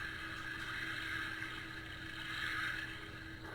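Steady waterfront recording from a La Crosse Equity mood light alarm clock: a continuous wash of lapping water with a low droning hum underneath, even and unbroken throughout.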